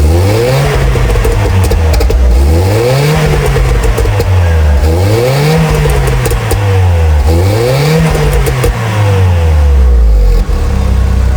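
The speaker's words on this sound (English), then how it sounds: "this car sounds amazing with a power flow exhaust and a cone filter" A 1.6-liter four-cylinder German car with a power flow exhaust and cone filter revs loudly and close, rising and falling in four repeated swells before a final long rev, with no talk over it.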